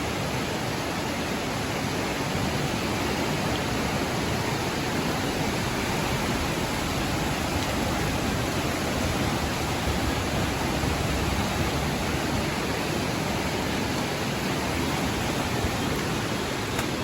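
Floodwater of a rising river rushes in a steady, loud broadband roar during Tropical Storm Ada at a flooded nature park, continuous and unbroken throughout with no voices.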